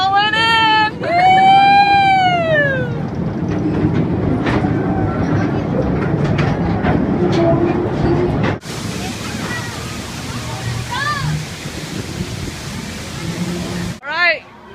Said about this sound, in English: we're going on the train. Going on the train.